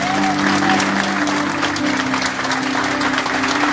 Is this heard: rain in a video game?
no